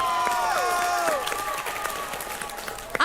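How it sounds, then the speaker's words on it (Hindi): Applause from a studio audience at a televised fight-club competition show, a steady wash of clapping under sweeping music tones and whooshes, ending with a sharp hit. "जोरदार तालियां।"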